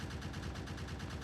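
Turrets firing in the Krastorio 2 mod for Factorio, a rapid, steady stream of loud automatic gunfire shots with no pauses.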